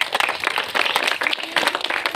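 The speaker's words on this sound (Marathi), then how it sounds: "सगळ्यांना आपण जोरात टाळ्या वाजवून अभिनंदन करूया" A crowd claps at a 76th Republic Day gathering in Kolhapur, a brief burst of scattered, moderately distant applause that rises and falls over about two seconds.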